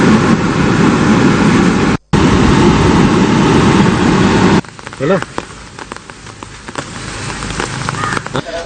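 Heavy rain pours down in a steady, loud roar, broken by a brief gap, then gives way to quieter rain with a news reader's voice and occasional vehicle sounds.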